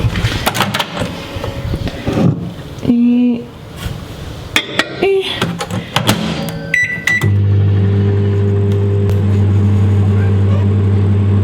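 A microwave oven heating beauty blender sponges soaked in water, first with clattering and beeps of loading and button presses, then a steady loud hum from the running oven.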